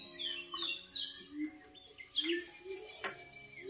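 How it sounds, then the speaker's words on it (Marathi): Several birds call in quick, high chirps and short tweets, faint and fairly distant, with no voices over them. "कोण ओरडतं? पक्षी ओरडतं पक्षी."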